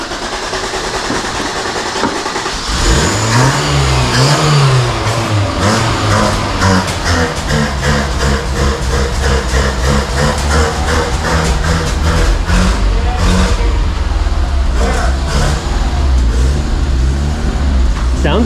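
A 1983 Honda Civic with a 1.5L EM1 engine running and revving close by, a steady loud engine drone with rising and falling pitch, under background noise and occasional voices.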